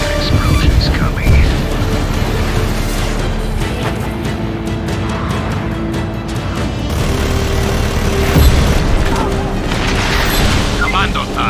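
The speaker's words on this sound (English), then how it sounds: "Feels like an explosion's coming." Explosions in the video game Just Cause 3 boom heavily amid rumbling game noise, a dense, loud roar of blasts and impacts with bursts swelling near the start and toward the end.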